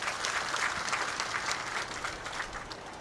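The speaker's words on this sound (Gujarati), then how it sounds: "ચૈતરભાઈ માટે એકવાર આપણે જોરદાર તાળીઓ પાડીએ." A crowd at a political rally in Gujarat gives a hearty round of applause, dense continuous clapping close and loud for about three seconds, tapering slightly at the end.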